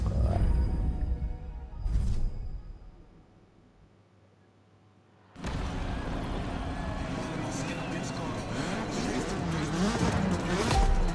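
A BMW M3 engine in the video game The Crew Motorfest roars loudly and continuously after a short burst and a quiet pause, with a fluctuating, revving tone.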